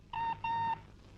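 A telephone rings in two electronic bursts, a short one followed by a longer one, clear and fairly close with no voices over it.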